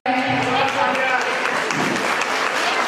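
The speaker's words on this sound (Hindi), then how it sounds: "तालियों की गड़गड़ाहट के साथ उनका हार्दिक अभिनंदन है" Sustained applause from an audience at a Hindi-language talent award ceremony held on 26 December 2021, steady and dense for the whole stretch, with a voice carrying over it.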